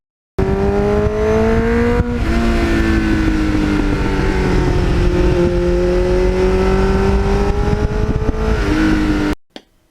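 A 1989 Kawasaki GPX750R Ninja revs loudly and close up, its four-cylinder engine wailing up through the gears with rising pitch and brief drops at each shift, then cutting off abruptly.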